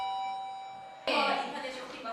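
A school bell rings at a middle school in Daegu that opened in 1985, a sudden bright, sustained electric ringing that starts about midway and carries on to the end after a quieter stretch.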